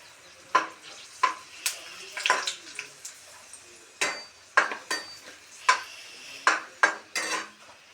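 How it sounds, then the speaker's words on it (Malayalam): Soya chunks being lifted out of hot oil, with irregular metallic scrapes and clinks of a ladle against the pan over a soft frying hiss, about a dozen sharp strokes spread unevenly through the clip. "നമുക്ക് എണ്ണയിൽ നിന്ന് കോരിയിട്ട് എടുക്കാം."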